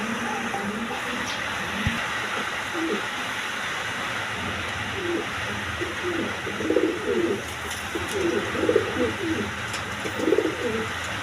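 Pigeons at a breeding farm coo repeatedly in the second half, several rhythmic rolling calls clustered close together over a constant hiss of background noise.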